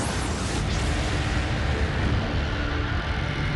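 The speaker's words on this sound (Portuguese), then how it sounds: "elas se fragmentam, liberando uma grande explosão de energia" A supernova explosion sound effect: a dense, sustained roaring rumble, loud and broadband, with no clear onset or end and no voices.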